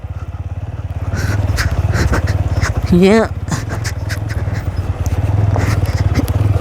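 An RTR motorcycle rides a rough dirt road between Deusa and Mukli, its engine a steady low throbbing drone under brief talk, with a dog's whining yelp breaking in near the middle.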